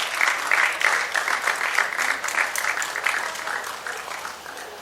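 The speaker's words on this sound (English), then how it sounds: "Let's clap for her." A crowd applauds steadily for several seconds, dense clapping that slowly tapers off toward the end.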